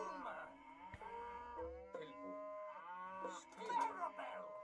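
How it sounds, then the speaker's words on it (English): Cows in the game Age of Mythology moo in several drawn-out, tonal calls one after another, fairly close and clear, with a few soft knocks between them. "There's the last cows"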